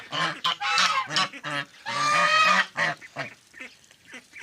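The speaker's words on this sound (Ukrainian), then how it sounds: "Гусечка ця, що сидить на яйцях спокійна." Domestic geese honking loudly and repeatedly in a close, raucous burst, several overlapping calls for a few seconds, then quieter scattered honks.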